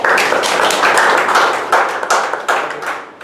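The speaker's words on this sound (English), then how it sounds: "Please give him a big round of applause" Applause at a Toastmasters club meeting, a dense burst of many hands clapping loudly and continuously, thinning slightly toward the end.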